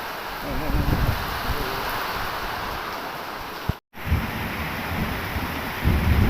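Storm wind roars with rain hissing steadily in Trang, Thailand, broken by a brief dropout, with a few deeper rumbling gusts.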